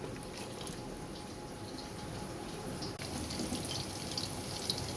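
Tap water runs steadily and quietly into a sink while cut potatoes, carrots and spring onions are washed for vegetable khichuri, with soft splashing and faint clinks over the constant flow.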